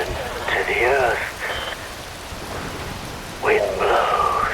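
Steady rain hisses in Metal Gear Rising: Revengeance, a constant wash of falling water, while a voice speaks over it in two short stretches.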